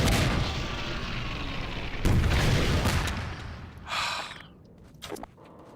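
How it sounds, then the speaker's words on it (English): A rocket launcher explosion in the shooter Half-Life 2, a heavy booming blast followed by a second loud burst and rumbling decay, then a fainter whoosh and a few scattered thuds. "Rocket launcher!"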